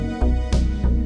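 Bright synth strings, resampled and reversed, swell in three repeated rising bursts, each ending abruptly over a sustained low tone, loud and close with no voices.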